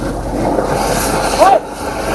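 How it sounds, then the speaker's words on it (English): A sewer jetter's water jet runs with a steady rushing, hissing roar under loud nearby talk, swelling briefly near the end before easing off. "Here comes the jet."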